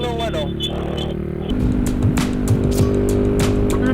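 Stock Honda XRM125 motorcycle racing in the 1st Cavite Endurance Challenge, its engine whining steadily and then dropping to a rougher, busier note as it shifts, close and loud, with voices nearby.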